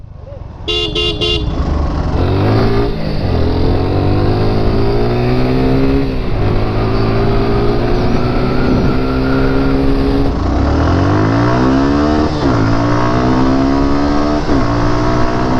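Two Suzuki Gixxer motorcycles rev loudly together, engines climbing and shifting through gears in repeated rising sweeps, with a brief horn toot at the start and a steady close roar throughout.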